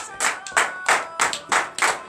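Congregation at a morning prayer service clapping in unison: sharp, loud, rhythmic handclaps in steady beats about every third of a second, with faint voices beneath.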